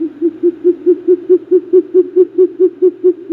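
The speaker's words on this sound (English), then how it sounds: "LongEar Owl." A long-eared owl gives a steady series of about fifteen evenly spaced, soft low hoots, close and clear against silence.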